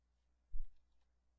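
A single computer mouse click lands close and quiet in an otherwise silent room, a short soft tap followed by a faint release.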